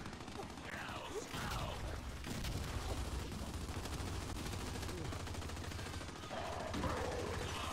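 Rapid automatic gunfire rattles through a Gears 5 Gridiron multiplayer match, dense and continuous under game noise, with a player's voice talking over it.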